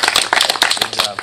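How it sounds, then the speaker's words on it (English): Audience clapping at a kids' fishing derby, a short burst of uneven, fairly close hand claps from a small crowd, with speech mixed in. "Big round of applause for her."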